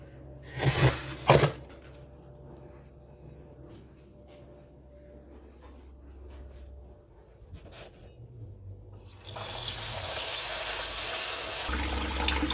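Tap water runs into a vessel while rice is being washed in a home kitchen, a steady splashing rush that is loud at first, softens to a low trickle, then returns as a strong continuous pour near the end.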